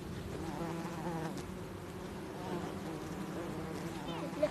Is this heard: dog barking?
no